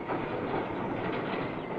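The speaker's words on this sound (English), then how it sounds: "2 flat trucks with wire drums on them, paying out the wire as the train moves slowly forward." A 1965 British Rail electrification wiring train with flat trucks carrying wire drums rolls slowly along the line, giving a steady, loud rumble of wheels and rolling stock with no voices.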